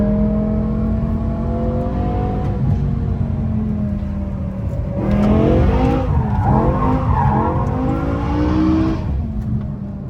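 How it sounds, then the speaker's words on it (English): A BMW M6 with a V10 engine takes a corner in second gear, its loud, steady engine drone joined midway by rising tire squeal and skidding before it settles back, heard close with no talking. "I'm gonna drive through it in second gear, and I'm gonna have absolutely zero torque, meaning the car will just drive through the corner normally"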